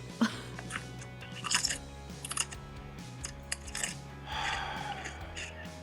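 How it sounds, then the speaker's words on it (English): Close, crisp crunching and chewing as a dog eats a potato chip, a few sharp crackly bites scattered irregularly with pauses between them. "listen to my dog eat a chip"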